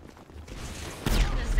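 Gunfire in the GTA 5 Doomsday Heist game breaks out as a sudden loud burst of rapid shots after a quieter, rumbling opening, with voices mixed in.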